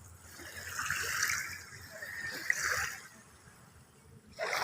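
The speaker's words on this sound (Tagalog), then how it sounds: "Dagdagan mo pa ito ng tubig pe." Water splashes and pours onto freshly caught squid in a boat's catch bin, a steady watery rush rising and falling in two surges with a fresh splash at the end, close by.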